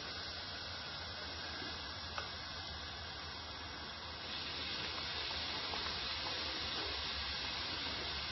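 Food sizzling in hot oil in a pan, a steady close hiss that grows denser and louder partway through as more pieces go in, with a faint click near the start.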